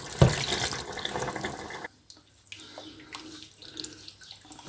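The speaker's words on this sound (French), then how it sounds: "Nous allons ajouter un peu d'eau." Water poured into a pan holding catfish and tomato, a close, rushing splash for almost two seconds that then drops to quieter trickling and small drips.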